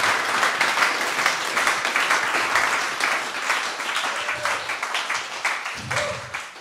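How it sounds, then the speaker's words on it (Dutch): Audience applause at a beatbox opening event in Zwolle, steady dense clapping from a hall crowd, fairly loud and continuous throughout with a brief low thump near the end. "Applaus voor David."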